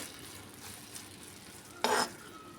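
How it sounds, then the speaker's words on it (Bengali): A spoon stirs sago halwa with food colouring mixed in, giving a soft, quiet scraping through a pot, with one louder, brief scrape near the end. "কালারটা দিয়ে আমি চামচটা করে আবারও খুব ভালো করে এটাকে মিশিয়ে নেব"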